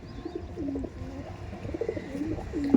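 Pigeons coo softly close by, a string of low, rolling throaty calls repeating over faint background noise, with no voices.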